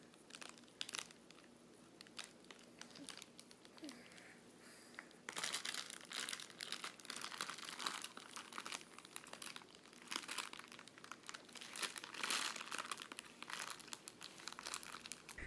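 Loud, continuous crinkling of an empty thin plastic or paper bag played with by a dog, rustling and crunching in bursts that grow busier partway through, no voices.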